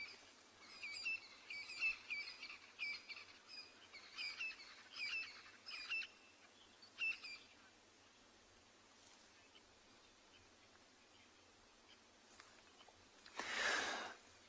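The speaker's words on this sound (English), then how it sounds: "But just try and listen to all the birds." Wild birds call and chirp at sunrise on a safari reserve, with a run of bright repeated whistled notes in the first seven seconds, then sparse faint calls over quiet, and a short rustling burst near the end.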